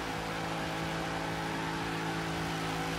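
A Hellcat-engined General Lee car revs with its wheels spinning in the video game Forza Horizon 3, a steady, moderately loud engine drone holding one pitch throughout.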